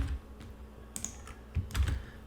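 Computer keyboard keys are pressed for a Ctrl V paste, producing a few quiet, close plastic clicks and taps in a brief irregular cluster.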